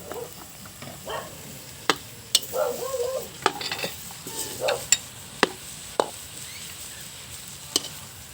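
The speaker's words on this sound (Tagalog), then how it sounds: "ginigisa na po yung santol." Santol is sautéed in a pan for ginataang santol, with soft sizzling under sharp, irregular clinks and scrapes of stirring against the pan, close and fairly loud.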